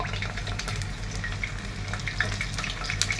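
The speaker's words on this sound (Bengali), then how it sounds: "তেলটা গরম হয়ে গেছে, আমি এখন দিব এক এক করে।" Chicken sticks cooking in hot oil give a steady, close crackling sizzle with small pops scattered throughout, and no voices are heard.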